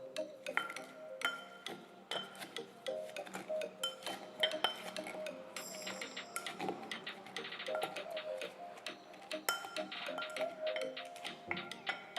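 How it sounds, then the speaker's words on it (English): Lime being muddled for a mojito, with glass clinks and knocks from the muddler striking the glass, plus scattered small utensil taps, close and fairly quiet. "Now you need to muddle it to extract the juice and the oil from the lime"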